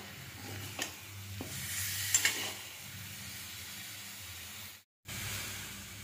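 Chopped onion, ginger and garlic fry with chicken for korai chicken, giving a steady close sizzle with a few stirring scrapes and clinks, then a brief cut to silence before the frying resumes.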